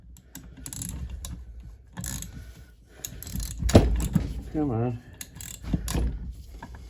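A seized chainsaw engine is turned over by hand, giving uneven mechanical clunks and ratcheting scrapes in bursts, close up, with a voice speaking briefly over the effort.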